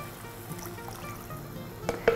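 About 1.5 liters of water poured into a soup pot for carrot and ginger soup, a soft continuous trickle and splash with a couple of sharper clinks near the end, close and without talk.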